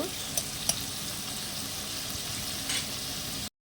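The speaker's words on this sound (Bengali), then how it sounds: "চিংড়ি মাছগুলো আমার ভাজা হয়ে গেছে" Shrimp fry in a pan with a steady, dense, close sizzle and a couple of faint clinks. The sizzle cuts out briefly near the end, and no one speaks.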